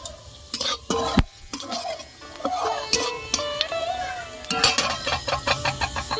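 Dry red chilli and cumin seeds hit hot oil in a pan for tempering, giving a light crackle and sizzle broken by sharp clinks of a spoon against the cookware.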